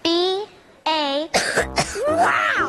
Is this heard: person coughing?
yes